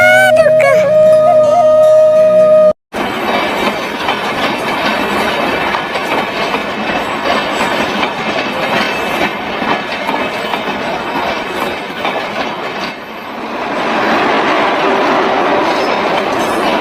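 A train running in a cartoon, heard as a loud, continuous rumble and rhythmic clatter of wheels on rails that swells near the end, after a brief burst of music.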